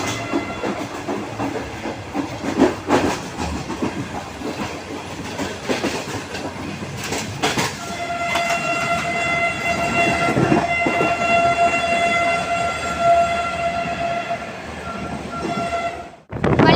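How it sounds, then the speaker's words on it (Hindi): Awam Express rolling through a railway station, with loud rumbling wheel clatter and hiss, then a long sustained horn blast holding steady for several seconds before cutting off. "रेलवे स्टेशन को थ्रू पास कर रहे हैं हम लोग"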